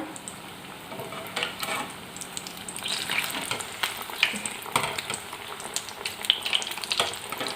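Beef cutlets sizzle and crackle steadily in a frying pan, a continuous close-up fry with scattered pops and no talking.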